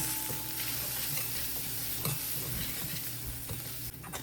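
Spices with turmeric and salt stirred in a hot pan, a steady sizzle with scraping stir strokes throughout, close and continuous, no talk.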